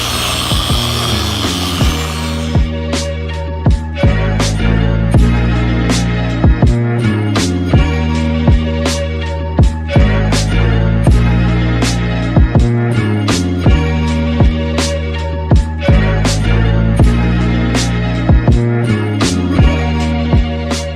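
A machine polisher buffs and compounds car paint during a show-car restoration, a loud, steady motorized whir with a regular pulsing beat and repeated small knocks, preceded by a brief hissy start.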